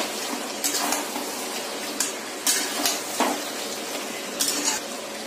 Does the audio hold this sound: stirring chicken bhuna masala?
yes